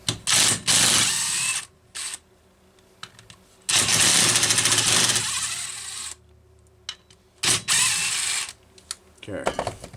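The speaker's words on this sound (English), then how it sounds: "We're going to go ahead and pull those 3 tank screws, and that should tell us the story." A power driver whirs in several loud bursts of ratcheting spin while backing out the fuel tank screws on a Homelite Super XL chainsaw, with quiet pauses and small clicks between bursts.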